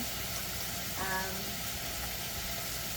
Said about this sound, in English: frying up the onions